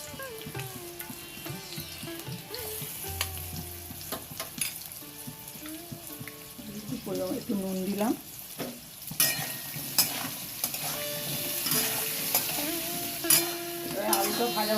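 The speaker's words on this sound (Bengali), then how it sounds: "আলুগুলোকে লাল লাল করে ভেজে নেব নুন হলুদ দিয়ে" Potatoes fry in a pan with salt and turmeric, sizzling steadily with occasional stirring scrapes and clatters while someone speaks briefly.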